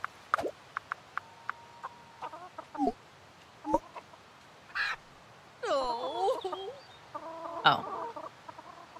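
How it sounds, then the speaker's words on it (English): Chickens in the farming game Fae Farm cluck and squawk in short, sharp bursts with a few clicks between them, close and clear, no speech. "Excuse me, chicken."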